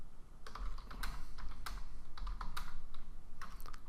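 Computer keyboard typing, a close run of quick irregular key clicks in short bursts over a quiet low hum, with no voices.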